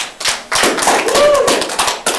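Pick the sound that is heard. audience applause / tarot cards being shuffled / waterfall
audience applause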